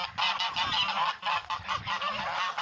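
A flock of geese honks nearby in overlapping, raucous calls that continue without pause, loud and close.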